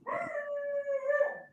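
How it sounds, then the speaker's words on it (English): A dog howls in one long, steady, wavering tone, close and clear, with no talking over it. "My dog's going crazy right now"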